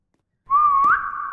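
A single human whistle, a sustained wavering tone that rises slightly at the end, heard up close and alone after a moment of silence during a Roblox game.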